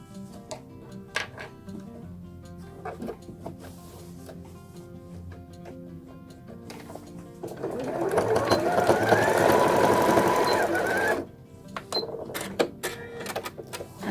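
A sewing machine stitches a strap onto a string tote bag: short bursts of rapid mechanical chatter, then a louder sustained run of stitching lasting a few seconds before slowing to intermittent stitches.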